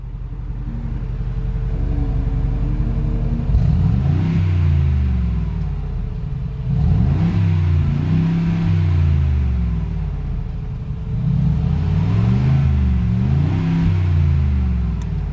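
A 2020 Mercedes-Benz G63 AMG V8 idling with a deep rumble, then revved hard three times, each rev swelling and falling back, heard loud and close with no talking.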